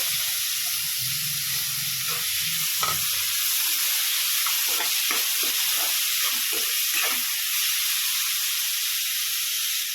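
Tomatoes fry in a hot pan for a dry fish curry, a loud, steady sizzling hiss throughout, with scattered clinks and scrapes of stirring.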